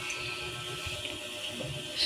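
A kitchen tap runs in a steady, close hiss while food is rinsed again before cooking macaroni and cheese, with a slight swell at the very end.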